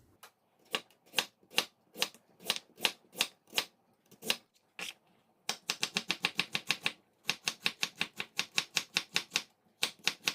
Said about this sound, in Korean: 무는 채썰기 할 겁니다